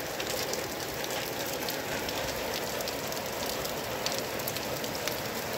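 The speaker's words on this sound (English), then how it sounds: "It's really been pouring properly. It's like raining proper." Heavy rain pours steadily onto surfaces in a backyard garden, a dense, even hiss of drops with scattered sharper splatters, continuous and fairly soft, with no voices.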